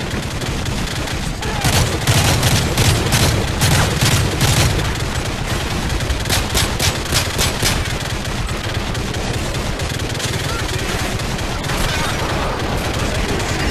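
Sustained automatic machine gun fire in a Modern Warfare 3 campaign battle, dense rapid bursts with heavy booming impacts and scattered shots, loud and continuous throughout with chaotic combat noise.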